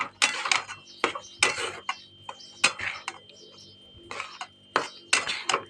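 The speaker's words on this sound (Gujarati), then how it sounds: "હવે આપણે એને હલાવતા રહીશું" Metal spoon scraping and clinking against a pan while sev is stirred, in a series of sharp, irregular strikes close by, with a faint steady hum underneath.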